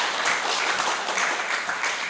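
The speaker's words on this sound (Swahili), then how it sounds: "Makofi kwake jamani." An audience claps steadily at a live stakeholder dialogue event in Tanzania, the dense applause holding at an even level for about two seconds with no voices above it.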